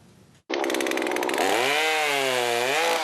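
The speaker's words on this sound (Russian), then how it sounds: "Рев бензопилы заглушает порывы ветра." A petrol chainsaw roars loud and close as it cuts through a tree branch that fell onto a pavement in gusty wind, rising to a steady high-revving whine with a brief dip in pitch mid-cut.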